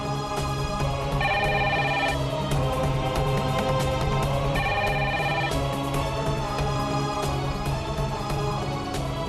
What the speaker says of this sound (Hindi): घर है सरकारी ऑफिस, कोई फोन ही नहीं उठाता है।